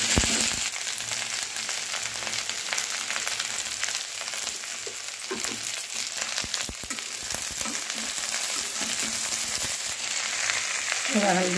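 Okra (bhindi) fries in a pan with a steady, close sizzle throughout, with occasional scraping and stirring sounds as it is mixed.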